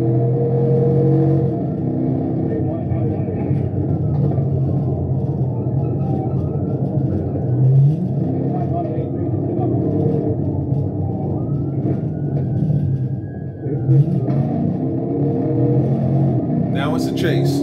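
The 5.7 Hemi V8 of a Georgia State Patrol car roars in a steady, heavy rumble throughout a high-speed chase, with a siren faintly wailing above it and a voice talking over the engine.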